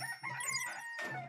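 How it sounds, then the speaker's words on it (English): Rooster crowing in the video game Digimon World: Next Order, a short, fairly faint call with a rising then falling tone, alone without talk. "Cock-a-doodle-doo!"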